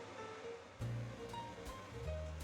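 Tanmen ramen soup with vegetables comes to a boil in a pot, giving a soft, steady bubbling rush that swells slightly, quiet and close with no talk.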